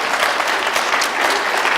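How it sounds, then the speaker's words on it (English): A lecture audience gives a round of applause, dense and steady, with clapping close and filling the brief moment without speech. "now that deserves a big round of applause"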